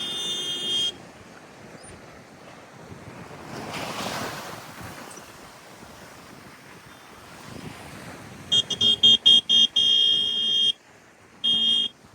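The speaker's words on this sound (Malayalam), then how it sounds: "നിങ്ങൾ ഈ കേട്ടുകൊണ്ടിരിക്കുന്ന ഹോണടി" A vehicle horn blares in a burst of short repeated honks, then one longer blast, over a steady background of wind and surf on a black-sand beach.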